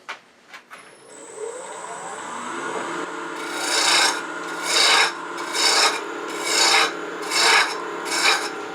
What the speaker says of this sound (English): Now I'm going to finish turning the base. I'm going to bring some of this wood down.